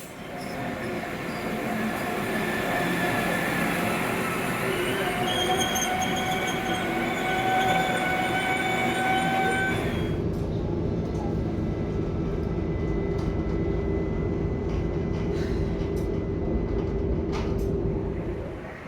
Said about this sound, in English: the first train's on time